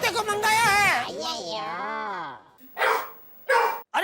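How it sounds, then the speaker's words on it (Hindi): A dog lets out long wavering, whining cries, then two short, sharp barks separated by brief pauses, close and fairly loud. "आपकी हिचकी भगाने के लिए खास तौर पे कुत्ते को मंगाया है।"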